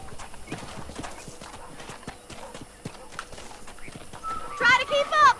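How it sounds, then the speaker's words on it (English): Horse hooves clip-clop steadily in the Red Dead Redemption video game, a regular rhythmic patter of light hoof strikes that continues throughout, with a louder burst of sound near the end. "My new horse. Come on then."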